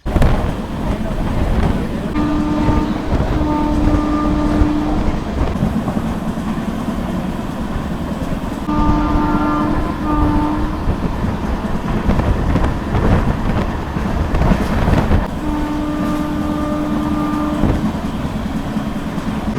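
A train runs along the rails with a loud, continuous rumble, and three long horn-like tones sound at intervals over the clatter.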